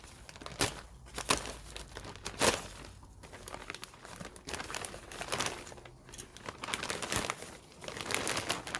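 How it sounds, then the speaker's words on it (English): Thin plastic wrapping is cut and pulled open, giving close, faint crinkling and rustling in irregular bursts, with no talking. "I think I will cut the plastic and we'll just fold it open"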